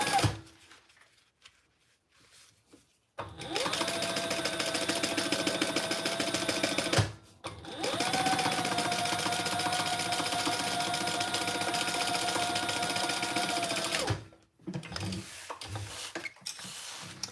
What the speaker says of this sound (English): I'm back stitching over each card slot.